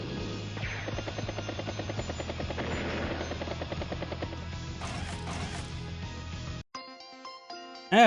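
Battlecopter unit in Advance Wars: Days of Ruin, a steady loud rotor whir with a low thrum running about six and a half seconds, a clattering impact mid-way, then a brief quieter musical jingle afterward.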